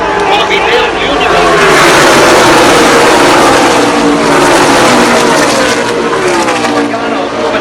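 A pack of NASCAR stock cars roars past on the Talladega tri-oval, a loud sustained engine drone with shifting pitch as they sweep by, under an excited race commentator calling the action.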